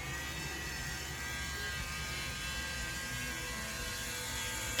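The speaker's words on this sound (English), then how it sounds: "you got the rotors running, but they make a very loud, annoying sound" Toy rotors on a Hot Toys The Bat 1/12 deluxe set whir continuously in a loud, even, buzzing drone that holds steady throughout with no talking.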